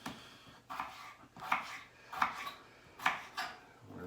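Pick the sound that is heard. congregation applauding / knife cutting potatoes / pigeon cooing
knife cutting potatoes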